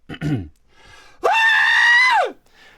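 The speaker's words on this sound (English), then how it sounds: "I need like a classic Boimler scream" A voice actor lets out one long, sustained cartoon-style scream in a recording studio, loud and close, after a brief burst of vocal noise.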